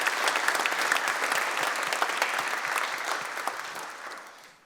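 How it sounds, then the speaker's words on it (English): A civic audience at a city's State of the City address applauds its city employees, a dense, sustained clapping from a large crowd that gradually fades toward the end. "if we could give them a round of applause for the work that"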